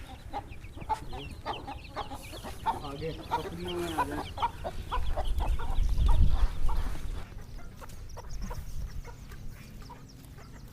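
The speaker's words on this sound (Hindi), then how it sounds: "ये असील मुर्गे खड़े हैं।" Aseel roosters cluck repeatedly in short bursts close by on a farm, with someone talking briefly over them and a louder rumble building in the middle.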